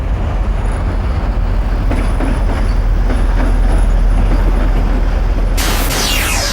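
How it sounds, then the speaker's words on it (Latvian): A train rolls along the railway tracks close by, with a loud, continuous rumble and clatter and a sharp rise in hiss near the end. "Atceries, braucošs vilciens nevar strauji nobremzēt."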